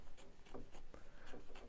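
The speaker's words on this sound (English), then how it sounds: "I'm going to use my double curved scissors" Double curved scissors snip and trim fabric close to stitching, a run of quiet, soft crisp cuts and rubbing strokes repeating in quick succession.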